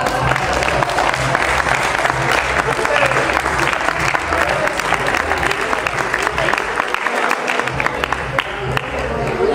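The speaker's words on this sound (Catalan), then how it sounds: "Un aplaudiment, va." A crowd at a fellowship dinner in Alzira applauds steadily for the full stretch, dense clapping close by with voices mixed in.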